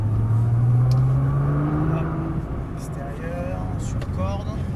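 A 550 hp Nissan GT-R accelerates out of a turn, its engine note climbing steadily in pitch then settling into a rising drone, heard from inside the car with someone talking over it.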